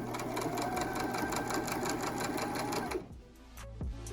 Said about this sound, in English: go ahead and sew that in